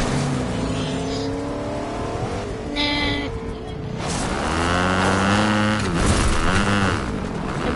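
In Fortnite, a game car's engine revs and whines through rising and falling pitch sweeps, loud and continuous, with brief bursts of noise like tire squeal or impacts and no speech.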